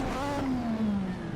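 A 1986 Formula One car in Assetto Corsa at Brands Hatch after a missed gearshift: a brief, close engine flare whose pitch sweeps quickly downward.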